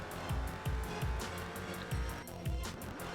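A car driving through a corner in the racing game Forza 4 with low front suspension causing oversteer: a steady engine roar, repeated rhythmic low thumps and brief tire noise, continuous and fairly close.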